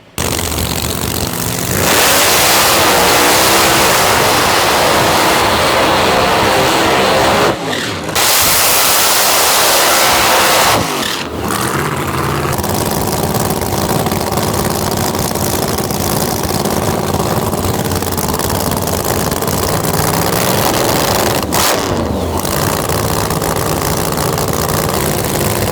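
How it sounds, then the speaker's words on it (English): EFI supercharged Pro Mod drag cars blast down the dragstrip at a race weekend, loud roaring engines filling the air in long sustained runs broken by brief drops as one car passes and another launches. "Let's see a little more runs from these EFI blowers, and they sound really cool."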